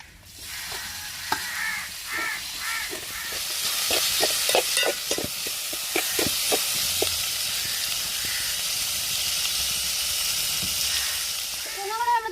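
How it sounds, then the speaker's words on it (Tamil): Onion, green chili, garlic and tomato sautéing in a pan for a dried-fish sambal, giving a steady close sizzle broken by repeated scraping stirs, with occasional faint harmonic calls in the background. "வெங்காயம் பச்சை மிளகா வெள்ளைப்பூண்டு எல்லாமே வதங்கி வந்துருச்சு. நம்ம தக்காளியை சேர்த்துக்கிறோம்"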